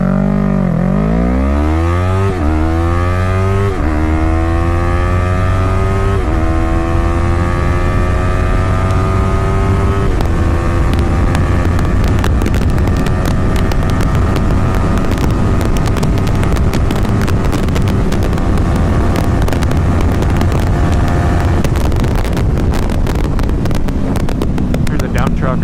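A 2016 Yamaha R3 sport motorcycle accelerates hard from a standstill, its engine climbing through several gear changes into a loud sustained high-revving roar, with heavy wind buffeting throughout.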